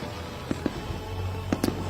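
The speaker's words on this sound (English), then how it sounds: "Little fireworks." A handful of small firework pops at an Iowa Salute to America celebration, sharp separate cracks in two brief clusters over a steady low hum.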